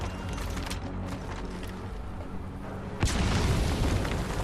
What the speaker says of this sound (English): Stop with the grenades.